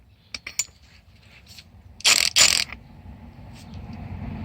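Pneumatic rattle gun driving a 17mm nylock nut onto the top of a VW Transporter T4 shock absorber: a few light clicks, then two loud, rapid hammering bursts close by, followed by a low hum.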